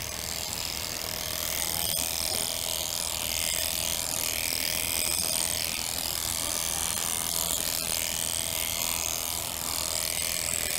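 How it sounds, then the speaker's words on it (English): Electric shearing clippers buzz steadily and close as they cut wool from a sheep's belly, a continuous mechanical whir with a few faint clicks, alone without talk. "Shearing the belly right now"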